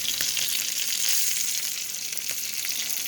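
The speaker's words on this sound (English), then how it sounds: "you hear the sound of the fucking food cooking" Continuous crackling sizzle of chicken frying in a hot pan, steady and close, with no voices.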